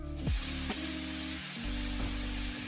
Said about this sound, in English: We're gonna throw in the spinach first because all that really needs is just like heat and then it's done.